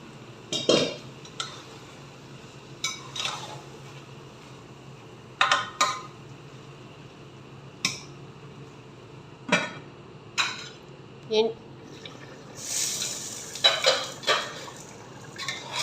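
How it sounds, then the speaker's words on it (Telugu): Washed chicken goes into a pan of fried onions and is stirred, giving sharp, irregular clanks and scrapes of a utensil against the pan over a low background sizzle, with about a dozen distinct knocks. "ఇందులో శుభ్రంగా కడిగి ఉంచుకున్న చికెన్ వేసేస్తాం."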